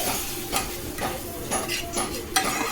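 Mustard, ginger and cumin paste sizzles in hot oil in a pan for a fish curry while a spoon stirs it, with a steady close frying hiss and periodic scraping strokes roughly every half second.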